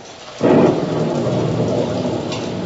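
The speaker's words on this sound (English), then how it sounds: "The squall engulfed us now. The rain was blinding when one couldn't tell where it ended and the ocean began." A squall at sea breaks in abruptly with a loud crack of thunder, followed by a dense, steady roar of heavy rain pounding the surface, close and continuous with no voices.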